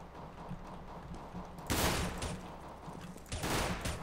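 Gunfire in a Counter-Strike: Global Offensive match, with quiet background game sounds broken by two loud bursts of shots, the second shorter than the first.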